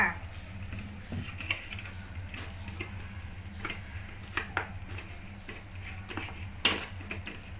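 Boiled cassava being mashed in a pan with a utensil: scattered scraping clinks and taps of metal against the pan at irregular intervals, moderately close, over a low steady background hum.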